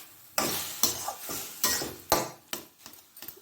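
Grated pumpkin for halwa is stirred in a kadai over a low gas flame, with several sharp scraping clatters of a spoon against the pan spaced irregularly over a soft sizzle.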